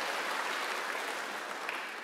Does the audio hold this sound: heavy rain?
no